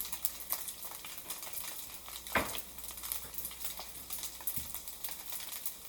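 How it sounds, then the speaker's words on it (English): Dumplings fry on a small burner with a quiet, steady hiss, light crackles and a couple of soft clinks from the pan, fairly faint and close. "So now my dumpling is frying"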